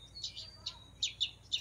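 A voice imitating a female house sparrow, giving a few short, thin chirps, faint and close, in a brief sequence with a steady low hum underneath.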